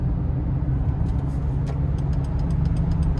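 A $500 used car with a 3.5 motor drives along the road, its steady low engine rumble and road noise continuous and close, swelling slightly as it pulls without any talk.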